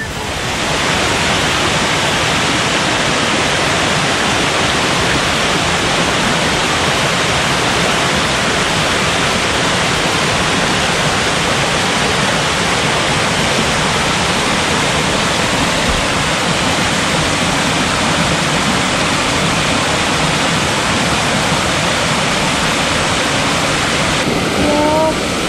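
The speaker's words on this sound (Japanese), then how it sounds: "どんなすごい滝や" Steady, loud rushing roar of Higashi Falls in Nasu, continuous and full throughout, with voices faintly present under the torrent.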